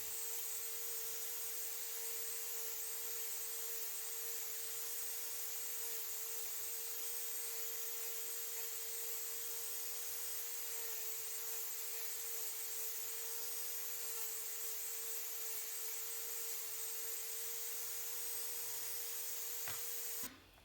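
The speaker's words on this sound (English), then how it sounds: "Here I'm switching to a finer grit sanding drum." A rotary tool with a sanding drum hums with a high, steady whine as it grinds and smooths stone, droning continuously, then cuts off abruptly at the end.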